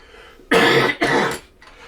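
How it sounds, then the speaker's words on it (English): One person coughs twice in quick succession, two loud, close, harsh bursts about half a second apart, with a faint trailing throat sound after them. "I'm just worried about your cough"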